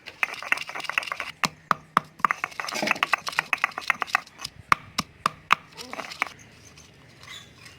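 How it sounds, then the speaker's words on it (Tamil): Ginger, garlic and fennel seeds are pounded in a mortar for a Kerala-style grouper dish: about twenty sharp, close thuds in an uneven rhythm that spaces out toward the end, with no talking. "இது நல்லா இடிச்சிப்போம்."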